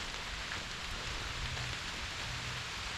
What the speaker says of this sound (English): the rain is picking up, but luckily we got this canopy of trees